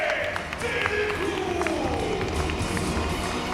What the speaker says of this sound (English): an ovation of appreciation from the Turkish crowd